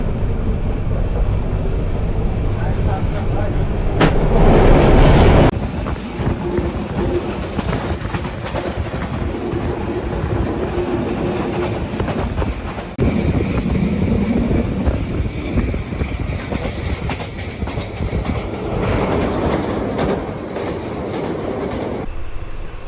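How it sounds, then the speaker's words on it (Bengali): Burimari Express passenger train running on rails, a loud, continuous rumble and rattle of wheels with steady clatter and no speech, shifting in tone partway through. "সকাল নটায় বিমানবন্দর স্টেশন থেকে এই ট্রেনটি ছাড়লো"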